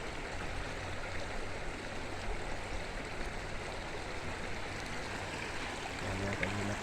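River water rushes in a steady, broadband flow at a river crossing used by horses, continuous and fairly faint without pauses.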